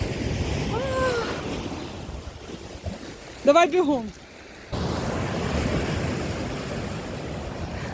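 Sea waves wash onto the shore at Langeron beach in Odesa, a steady surf rush in the open air with wind buffeting the microphone, broken by a short close voice and a quick clatter in the middle.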